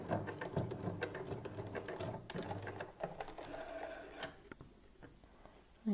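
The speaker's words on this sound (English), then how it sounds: "And then reverse stitch just to finish that one off as well." A sewing machine reverse stitches along a fabric strap for a wrist pin cushion, running in short mechanical bursts with a rapid ticking needle rhythm, close and fairly quiet, then pausing near the end.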